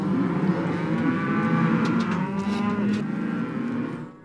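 Cattle and calves moo loudly at a ranch branding, one long, strong bellowing call after another close by, layered over a low steady background rumble with no talking.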